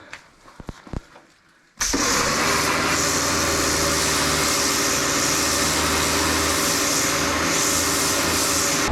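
A pressure washer cleans a very dirty caravan. Its motor starts up and runs as a loud, continuous, close drone with a rough hissing spray over it, steady to the end.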